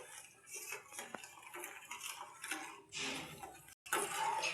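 A spoon stirs milk with a spoonful of cream in a pot, giving soft irregular scrapes and light metallic clinks close by, alone at a quiet level.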